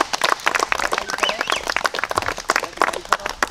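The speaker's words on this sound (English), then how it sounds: "if we could all give him a round of applause" An outdoor crowd at a landfill facility event during a kayak fishing tournament claps in a dense burst of applause, close and lively, with some voices mixed in.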